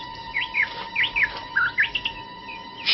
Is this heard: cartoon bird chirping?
yes